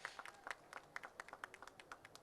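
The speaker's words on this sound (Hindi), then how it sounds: "जोरदार तालियां इन दोनों के लिए" A handful of people clap faintly at a song launch event for Border 2, giving sparse, distinct hand claps in an irregular rhythm rather than a full wave of applause.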